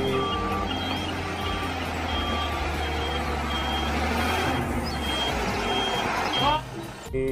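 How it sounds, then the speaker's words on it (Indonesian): Cement mixer truck idling with a steady low engine rumble while a reversing beep repeats at regular intervals, close and fairly loud, ending with a brief hiss. "yang ini truk molen untuk mengaduk semen"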